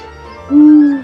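An owl hoots once, a single loud, sustained low hoot standing alone over a faint background, used as a sound effect in a children's folk tale about an owl.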